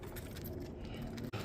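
A bunch of keys jangles as it is grabbed, a brief metallic rattle over steady outdoor background noise, ending with a short sharp clink.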